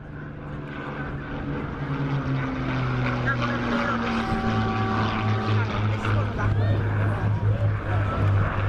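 A 1935-designed propeller aircraft flies a display at Manchester Airshow, its engine a steady droning hum with shifting pitch throughout, while a commentator talks over it.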